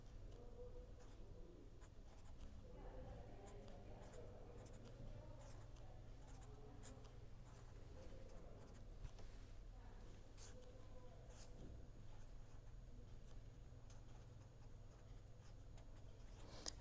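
Chalk or pen writing out an equation during a mathematics lecture, a faint continuous scratching of strokes under a steady low background hum, with no talk over it.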